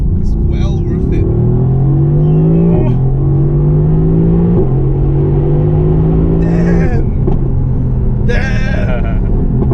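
Mercedes-AMG GTC engine pulling through the gears while driving, a loud close rumble with pitch rising in steps and dropping at each shift, with people talking over it.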